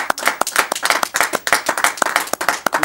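A small studio audience at a French local TV show applauds, with close, brisk clapping from a few people sounding as uneven sharp claps for a few seconds.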